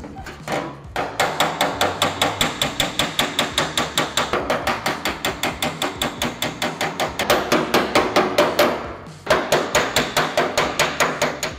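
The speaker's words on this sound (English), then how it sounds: "I'm just gonna hit it a bunch of times and smooth it all out." A hand hammer strikes sheet metal held on a dolly, planishing it smooth with rapid, steady, evenly spaced metallic taps. The taps come close and loud, briefly pause twice, then resume at the same brisk rhythm.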